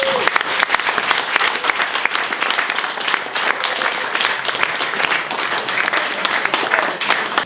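A live audience at a conversation event greets Paul Hanley with loud, sustained applause and cheering, dense clapping filling the room without pause.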